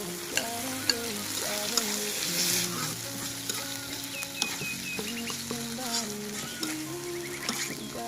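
Tomatoes going into ginger and garlic already frying in a pan, with a steady sizzle and stirring clatter throughout; occasional birds and a rooster-like call sound faintly in the background of an outdoor village kitchen.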